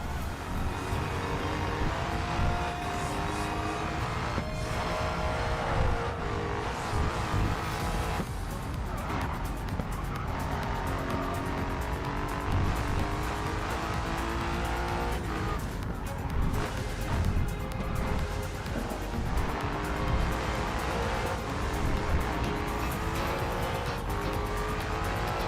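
A Jaguar F-Type racing in Racing Master at the Nurburgring gives off a constant loud engine roar with shifting pitch and bursts of tire squeal, and someone talks over it now and then.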